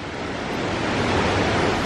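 Triple Falls waterfall in North Carolina rushes in a loud, steady broadband roar, close and continuous with no other sounds over it.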